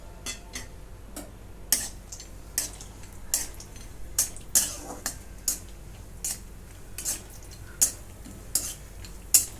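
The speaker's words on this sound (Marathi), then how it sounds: "आता हे तळून घेते काजू आणि बदाम" Cashews and almonds frying in homemade ghee in a pan over a low flame, heard as faint, scattered clicks and light scrapes of stirring at an irregular pace, with a soft background hiss and no talk.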